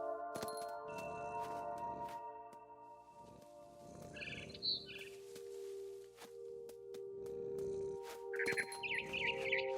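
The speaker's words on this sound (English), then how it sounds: "Then I heard chirping outside my window. It was a barn swallow going back to her nest." A barn swallow chirps in the video game What Remains of Edith Finch, brief high twittering bursts spaced out over a steady ambient music bed with soft thuds.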